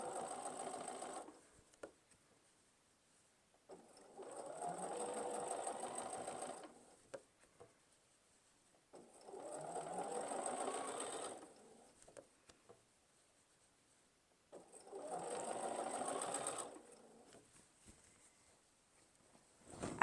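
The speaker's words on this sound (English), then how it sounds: "As you practice on your sewing machine, you'll learn where that needle hits." A sewing machine stitches quilt binding in four bursts of a few seconds each, whirring steadily with short quiet pauses between runs, close and fairly soft.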